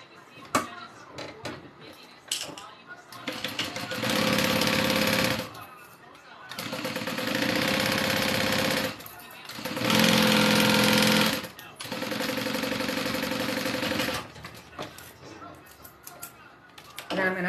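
A sewing machine stitching fabric pieces right sides together runs in three long sustained bursts of rapid, steady whirring, close and loud, separated by short pauses with handling clicks.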